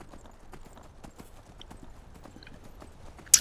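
Horse hooves clip-clop at a steady rhythm while riding in the video game Skyrim, soft and fairly close, ending with a brief sharp sound.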